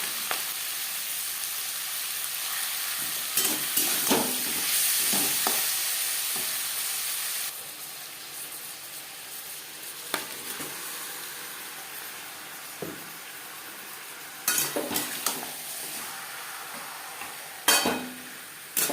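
Marinated shankar fish frying in a pan with onion and tomato, giving a steady close sizzle and hiss broken by occasional clatters of stirring, with no talking.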